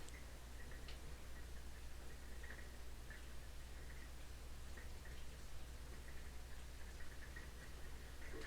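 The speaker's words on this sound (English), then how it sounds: "You hear that rain out there?" Steady rain falling outside, a soft continuous hiss with faint scattered ticks of drops, fairly quiet and with no one talking.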